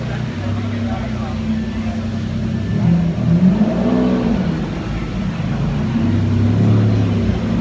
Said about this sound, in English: Look what Roy decided to bring out. The red, white, and blue Diablo.